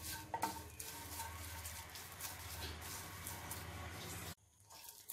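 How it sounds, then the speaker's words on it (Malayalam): Dried prawns dry-roasting in a pan with no oil, stirred with steady scraping and clattering over a dense, noisy crackle for about four seconds before it drops away abruptly. "നമ്മൾ എണ്ണയൊന്നും എടുക്കാ ഒഴിക്കാതെ അല്ലാതെ തന്നെ ഇങ്ങനെ വറുത്തെടുക്കുന്നു."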